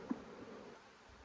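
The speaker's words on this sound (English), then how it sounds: "So these bees are getting aggressive." Aggressive honey bees buzz in a bee yard during a fall honey flow with robbing, a faint continuous hum with one brief louder bee passing close at the start.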